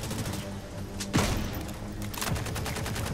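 Rapid automatic gunfire in the vampire shooter game Redfall rattles in a dense, continuous burst, with a couple of sharper, louder shots standing out near the start.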